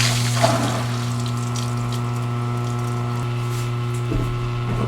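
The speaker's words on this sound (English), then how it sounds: "we got water there at the backflow valve" Water flowing steadily at a backflow valve on a neglected property, a continuous rushing wash over a low pump-like hum, close and even throughout with no talk.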